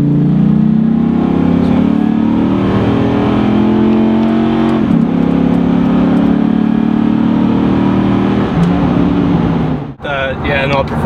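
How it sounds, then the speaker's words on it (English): A Dodge Ram SRT-10 pickup engine revs loud and close, drops down a gear with a brief dip in pitch, then pulls hard as it accelerates, the drone rising again before cutting off abruptly near the end. "you mash your foot down to the floor. She just drops down a gear and she just goes like it's possessed."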